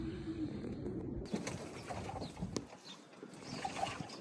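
Pigeons coo softly in an enclosed loft in winter, low murmuring calls repeating under a steady background hum, with occasional faint clicks.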